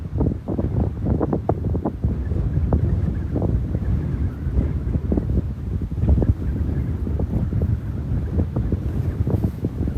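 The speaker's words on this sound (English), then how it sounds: "So it is a pretty windy day here." Strong gusting wind on a horse farm, roaring and buffeting the microphone continuously with rumbling low-end bursts, loud and close with no voices.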